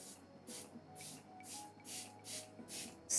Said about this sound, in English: such a smooth setting mist